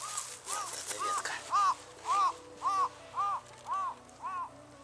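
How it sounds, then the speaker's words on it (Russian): A crow caws repeatedly beside a campfire outing on Sakhalin, about eight evenly spaced harsh calls at moderate distance over low background hiss and murmur. "Ворона нам удивляется и радуется."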